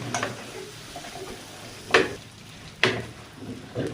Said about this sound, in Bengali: পেঁয়াজ কুচি আর কাঁচা ঝাল ভেজে নিচ্ছি